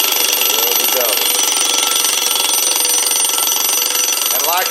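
An antique wind-up alarm clock rings loudly and continuously, a dense sustained metallic clatter that fills the whole stretch without pause, with faint voices partly under it.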